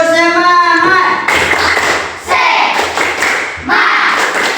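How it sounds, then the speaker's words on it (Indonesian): A school class gives a rhythmic spirit clap in a primary science lesson, a burst of many hands clapping in short patterned bursts after a teacher's spoken cue, loud and close, with voices around it. "Tepuk semangat."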